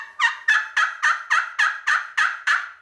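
Nine evenly spaced turkey yelps from a friction call, sharp and close, each note dropping in pitch in a quick rhythmic series, with clucks.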